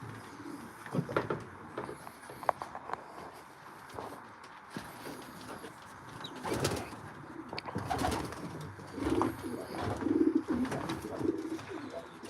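Racing pigeons coo softly inside a loft, several low throaty calls repeating near the end over faint rustling and wing movement, with no voices.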